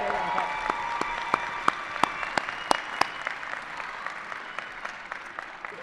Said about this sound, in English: Let's give these outstanding graduates another round of applause.